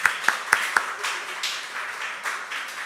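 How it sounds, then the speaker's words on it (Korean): A church congregation gives a few sharp claps at a Sunday service, about four distinct nearby claps followed by a softer, scattered patter that tapers off. "우리 박수로 한번 고생했다고."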